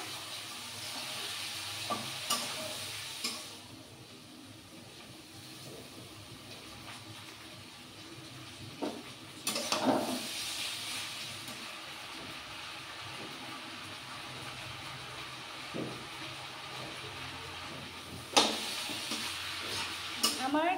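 Cabbage stir-fried with potatoes and carrots in a pan for chow mein, a steady soft sizzle running throughout, with a few louder scraping bursts of stirring near the start, middle and end.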